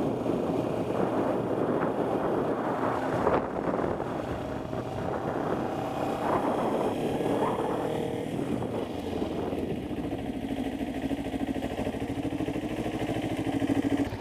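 A Kawasaki Ninja 250 motorcycle ridden at night, its engine a steady drone heavily mixed with constant wind rush across the microphone, no talking over it.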